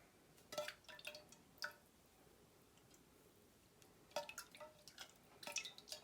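Rice water dripping and splashing during face washing, with scattered light drips and small splashes separated by quiet gaps, faint and close.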